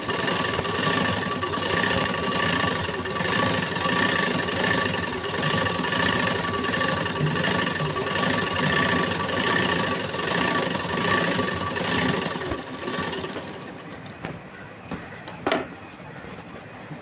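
An electric sewing machine stitches a puff sleeve seam, whirring in a steady, even hum for about thirteen seconds before stopping, followed by a few faint handling clicks.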